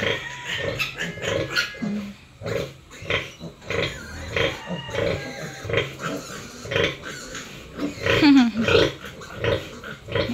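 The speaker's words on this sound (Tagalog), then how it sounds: "ako po muna ang nagtitingin-tingin po dito sa mga biik" Piglets on a farm grunt and squeal in a busy, overlapping chorus, loud and close, with constant snorting and occasional higher shrieks and no break in the noise.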